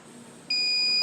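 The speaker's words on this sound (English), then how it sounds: "There goes the beeping noise." A Cricut heat press timer, set to 400 degrees for 20 seconds, gives a sudden steady electronic beep halfway through, fairly loud and close, with a short click at the end.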